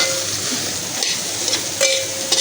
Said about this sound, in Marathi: आणि ते सोयाबीन आहे ना जरा परतवायचे